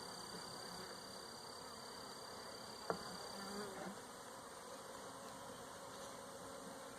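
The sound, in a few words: honey bees buzzing out of package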